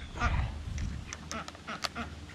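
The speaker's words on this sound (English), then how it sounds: "say hi to the ducks. They are pretty interested in the video." Several ducks quack close by in quick, irregular bursts outdoors, with a soft rumble of background noise underneath.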